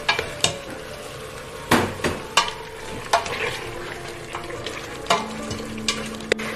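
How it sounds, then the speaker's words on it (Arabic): Oil sizzles in a pan as garlic fries for a Syrian madfouneh dish, with a steady crackle punctuated by sharp clanks of a utensil stirring against the pot. "ورح نضيفها الثوم ونضل نقليها مع الثوم"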